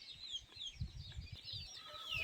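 A mother hen clucks with her chicks around her, low soft clucks repeating irregularly under a continuous stream of high, thin chick peeps, moderately faint and close, with no voices.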